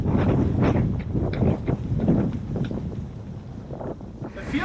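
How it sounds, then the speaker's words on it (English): Wind generator blades swooshing aboard a sailboat in rough seas near the Faroe Islands, with waves rushing and splashing against the hull, a steady loud roar of wind and water with surging bursts. "It sounds, because the wind generator started swooshing, and the waves started raining."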